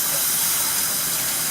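Cold water runs from a kitchen tap in a steady, loud, broadband hiss that stays even throughout, with no speech.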